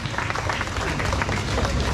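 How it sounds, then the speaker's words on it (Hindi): A crowd at a school or community event claps loudly and densely throughout, a steady wash of many hands with voices mixed in underneath. "जोरदार तालियां इनके लिए।"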